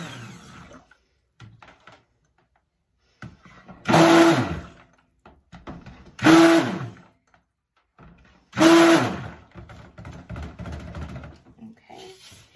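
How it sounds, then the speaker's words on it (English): A handheld stick blender mixes soap batter in three short, loud whirring bursts, each about a second long, separated by quieter pauses with faint handling noises. "All I'm going to do is use my stick blender, and I'm just going to mix up those last little chunks."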